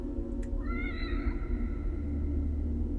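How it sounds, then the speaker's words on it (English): A black cat meows in The Evil Within horror game, a single drawn-out, wavering meow rising over a steady low ambient hum, fairly close and clear with no talking. "Oh yeah, the black cat."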